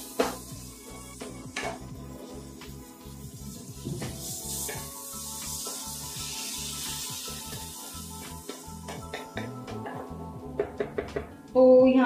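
Coarsely crushed garlic and vegetables stirred in a frying pan for paneer bhurji, giving a soft sizzle under steady spoon scrapes and knocks against the pan, with a louder clatter at the very end.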